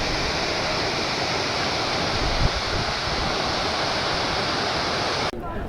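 Water overflowing the Marikanive dam on the Vedavathi river makes a loud, continuous broadband roar, with a brief thump partway through and a slight change near the end.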